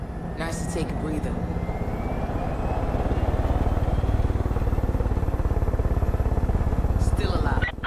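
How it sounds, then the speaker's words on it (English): Helicopter in the Far Cry 5 video game, a steady loud rotor chop and engine roar that builds and holds, with no voices. "Let's go and take the chopper."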